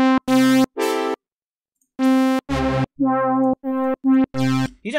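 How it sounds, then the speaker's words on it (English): An analog brass synth patch runs through the Ableton Live stock vocoder, producing a series of buzzy, robotic sustained tones and short stabs with gaps between them, close and loud. "Use a brass sound."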